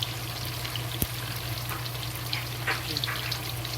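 Tofu fries in a pan, a close, steady hiss of oil with a single sharp knock near the start and a few light crackles, with no voices.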